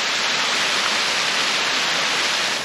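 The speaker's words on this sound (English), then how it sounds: "Got the waterfall." A waterfall on a via ferrata above Mürren roars as a steady, dense wash of rushing water, loud and close, with no break.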